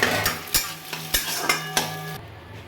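Egg bhujia, beaten egg with salt, scrambled and fried in a pan, with a utensil scraping the pan in regular strokes about every half second over a constant sizzle before it stops abruptly.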